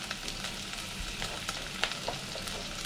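Sliced onions frying in hot oil with half a spoon of salt for chicken biryani, a continuous close crackling sizzle with faint stirring clicks, no talk.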